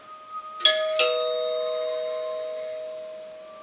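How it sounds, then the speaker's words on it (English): A doorbell chimes twice in a clear ding-dong. The ringing tones fade slowly in a quiet room with no voices. "He rang the bell again."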